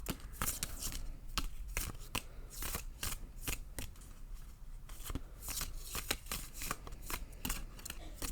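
Oracle cards being shuffled for a tarot reading in quick, repeated riffling bursts, close and steady throughout, with no voices.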